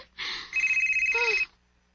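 A phone rings with an incoming call, a bright electronic ringtone sounding close by in two short bursts, the second a rapid warbling pulse, then cutting off into quiet.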